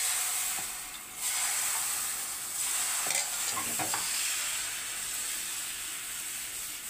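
Maida and corn flour batter cooks on an oiled dosa pan, giving a steady close-up sizzle and hiss of frying that continues with slight swells throughout.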